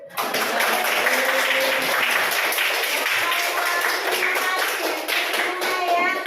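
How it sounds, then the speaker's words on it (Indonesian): Students in a classroom clap together in a lively burst of applause that carries on steadily for several seconds, close and fairly loud, with a few children's voices mixed in. "Beri tepuk tangan."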